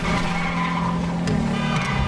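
A heavy motorbike in GTA 5 runs with a steady, loud engine drone while tires skid and scrape, with short sharp bursts near the end as the bike lands from a jump.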